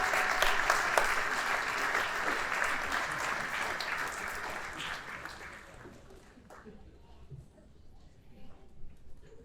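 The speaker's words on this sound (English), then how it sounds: "Let's have the officials come on up one more time for a big round of applause" A crowd at a sports awards ceremony applauds officials called up on stage, loud sustained clapping that fades after about six seconds, leaving a few scattered claps and quiet room noise with some indistinct voices.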